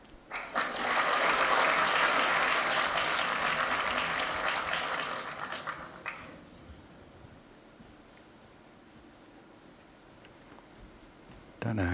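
Applause rises in a snooker arena during the 2020 World Championship semi-final between Wilson and McGill, a sustained burst of clapping for about five seconds that fades away, leaving a quiet hall.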